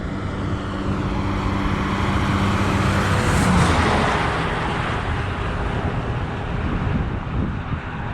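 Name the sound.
truck passing on road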